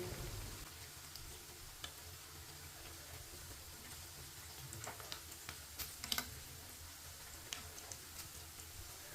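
Chicken tikki patties fry steadily in a pan on low heat, a soft continuous sizzle with scattered small pops and crackles throughout, with no one speaking.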